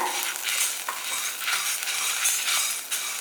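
Food sizzles and crackles in a hot pan while a utensil stirs and scrapes in quick, repeated strokes, close up, with no voices.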